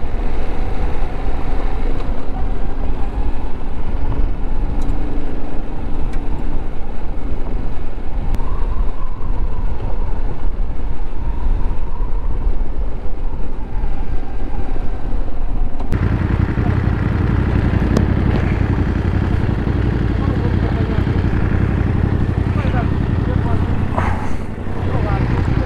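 Loud Yamaha Tenere 700 motorcycle engine droning continuously with rough, crunching loose-gravel road noise beneath, growing heavier and coarser in the second half.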